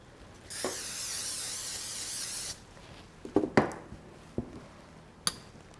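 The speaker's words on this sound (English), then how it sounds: "I'm going to give my pan a quick spray." Cooking spray hisses onto a pan in a long spray lasting about two seconds, followed by a few light clinks and taps of metal cookware.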